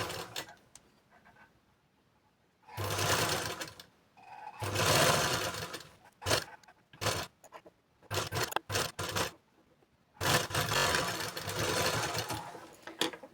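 A sewing machine stitches blouse lining in several close, loud runs of varying length, separated by short pauses and handling noise.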